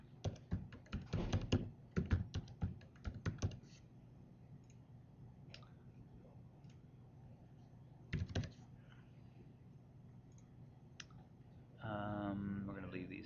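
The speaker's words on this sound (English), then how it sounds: "I'm going to type in our domain username and our domain password" Typing a domain username and password on a computer keyboard, with quick bursts of close key clicks, a pause, a few more taps, then a short burst of talk near the end.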